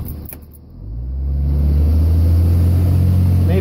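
A third-generation Cummins diesel pickup with a 48RE automatic transmission, stuck in limp mode, pulls away from a stop in third gear, its deep engine drone swelling loudly after a quiet pause and then holding a steady, labouring rumble.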